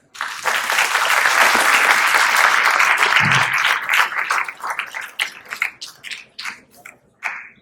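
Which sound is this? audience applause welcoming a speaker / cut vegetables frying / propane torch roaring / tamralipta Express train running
audience applause welcoming a speaker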